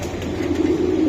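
A racing pigeon coos in low, throaty rolling murmurs while being handled up close, a steady soft warble filling the moment.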